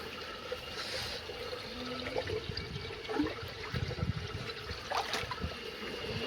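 Water trickles and splashes steadily at low level into a sample bottle, a soft continuous pour with occasional gurgles, no voices.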